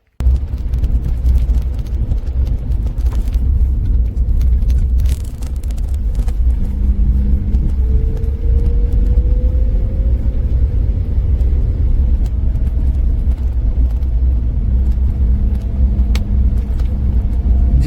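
A car drives through a long two-way road tunnel in Iceland whose rock walls still show their drilled shape, a steady loud engine and tyre rumble filling the enclosed space, with a faint passing tone partway through.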